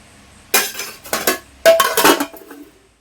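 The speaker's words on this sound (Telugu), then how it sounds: "మూత పెట్టేసుకుని" A metal lid is set onto a pot of rice cooking on the stove, giving two short bursts of clanking and clinking, close and fairly loud, with no talk.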